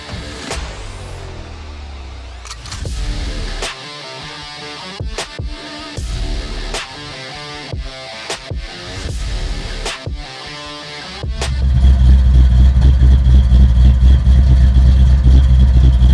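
Cars pass nearby on a busy Sunday road, with a string of loud whooshing passes over roughly eleven seconds, then a close, steady engine rumble that grows louder and lasts to the end.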